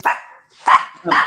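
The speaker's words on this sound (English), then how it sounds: "The kids got home, so the dog went nuts." A little dog barks three times up close, sharp and loud, as the kids get home, with short gaps between the barks.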